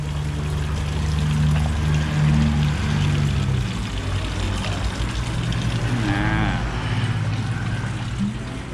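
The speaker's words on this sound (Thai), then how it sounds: "นี่ มีน้ำตกด้วย" An indoor waterfall inside a restaurant in Phayao, Thailand, gives off a steady, fairly loud rush of falling water that runs the whole time, with low murmuring voices and a faint hum underneath.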